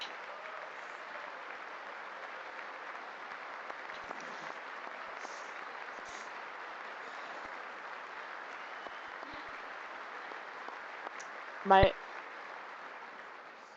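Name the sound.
audience applause during State of the Union address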